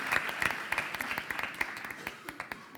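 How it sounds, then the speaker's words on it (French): An audience at an award ceremony for the Corbeilles Mieux Vivre Votre Argent prizes claps in a steady scattered patter, moderately distant and fairly faint, with voices murmuring underneath. "On peut vous applaudir encore une fois pour ce très beau prix."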